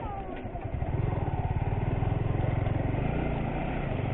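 A Yamaha R15 V4 motorcycle engine runs steadily nearby, a continuous pulsing drone that settles into an even, slightly throbbing note after a brief quieter start.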